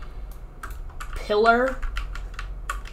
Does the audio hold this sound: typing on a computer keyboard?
yes